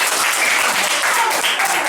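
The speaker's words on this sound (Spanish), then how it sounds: "Un aplauso para todos ustedes" Children clapping loudly together at a Santa Claus visit in a classroom, a dense, bright burst of applause with excited shouts mixed in, close and continuous.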